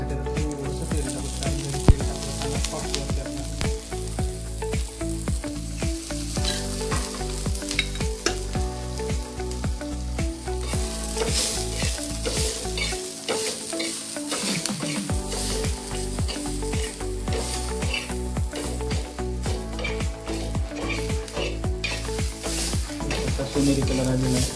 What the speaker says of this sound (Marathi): असं कांदा लाल होईपर्यंत भाजून घेऊ आपण.